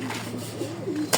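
A Chinese nasal trough racing pigeon coos softly and repeatedly at close range, followed by a short sharp burst as it is let go.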